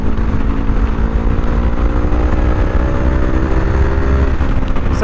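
A 2025 Kawasaki Ninja 500 motorcycle being ridden, its engine holding a steady, droning hum under loud rushing wind noise, with no talking.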